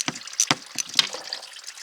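Coolant drains from a Can-Am Outlander ATV into a pan below, making close, irregular gurgling splashes that pulse several times in quick succession.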